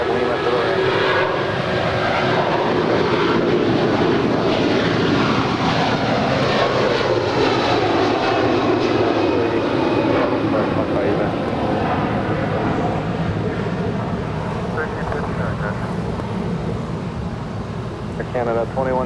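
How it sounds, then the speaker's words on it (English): An Air Canada Airbus A330-300 takes off on the south side at Los Angeles International Airport, its loud, steady engine roar lasting throughout while a radio voice and other chatter carry underneath. "We have the Star Alliance Air Canada A330-300 taking off here on the south side."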